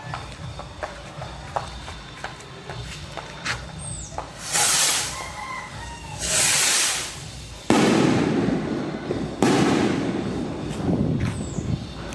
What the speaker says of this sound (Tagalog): So, ito, nagsindi na akong kuitis.